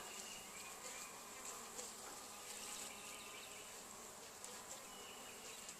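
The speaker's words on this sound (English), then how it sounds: "The bees are buzzing away, bringing in pollen." Bees on a farm in spring hum in a steady, dense buzz, with no talking.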